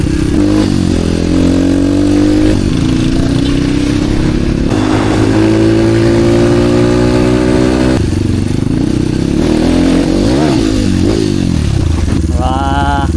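A motorcycle engine hums steadily, rising and falling in pitch as the bike accelerates and shifts gears, loud and close throughout the ride.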